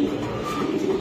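Racing pigeon cooing at close range, a steady low throaty murmur that holds through the short moment.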